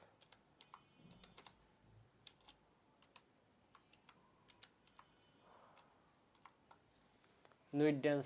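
Blocked keywords typed on a computer keyboard in short bursts of light, quiet key clicks at an irregular pace, ending in a louder clatter of keys or clicks near the end; no speech over the typing.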